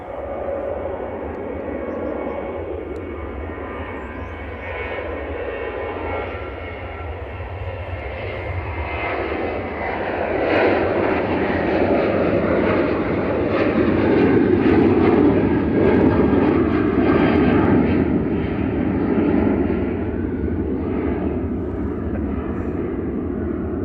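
A Ryanair passenger jet bound for Tenerife South takes off at Manchester Airport, its broad engine roar building steadily, peaking around mid-clip and holding loud without any speech.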